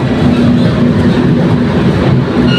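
Sundarban Express train at Tangail railway station in Bangladesh, a loud, continuous rumble of rolling wagons with steady low drone and faint rhythmic clatter, no voices.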